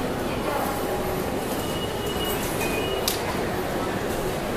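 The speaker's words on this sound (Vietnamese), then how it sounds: "À, bây giờ mình đi metro á." A metro subway train in Rome, a loud continuous rumble with brief high wheel squeals and sharp metallic screeches, close, with some voices under the din.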